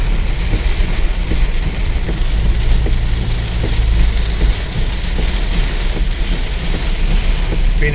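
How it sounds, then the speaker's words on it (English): Heavy rain drums on a car driving through an Auckland rain warning, a loud, continuous patter over the low rumble of the engine and road noise. "we're getting some serious rain here"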